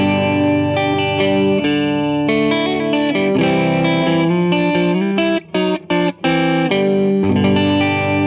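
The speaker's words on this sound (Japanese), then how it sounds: "それではフロントピックアップから音を聞いてみましょう" Bizen Works Burned FV Natural electric guitar through its front pickup, playing chords and riffs with effects and distortion, loud and close, with a few brief choked stops near the end.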